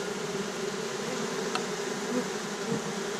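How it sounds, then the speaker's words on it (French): Honeybees swarm inside a trash bin, a dense, steady, close buzzing that holds level throughout with no pauses. "essayer de sortir des abeilles d'une poubelle"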